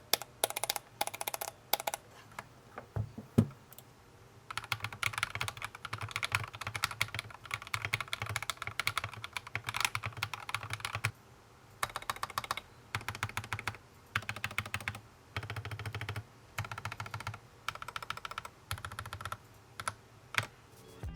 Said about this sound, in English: The keycap also produces a well-defined sound because it's thick and tall as well.